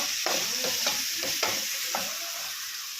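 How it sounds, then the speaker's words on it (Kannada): Oil sizzles steadily in a pan as ingredients fried with turmeric are stirred, with a few scraping strokes of the spoon over a loud, continuous hiss and no voices. "ಸ್ವಲ್ಪ ಅರಶಿನ ನೋಡಿ ಟಾಪ್ ಫ್ರೈ ಮಾಡಿ"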